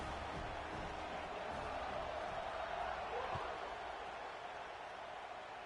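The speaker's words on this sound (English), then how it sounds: "this crowd is buzzing after that last score" A college football video game crowd at Tennessee vs. Pittsburgh keeps up a steady, distant buzzing murmur after a score, a broad even roar with no sharp cheers.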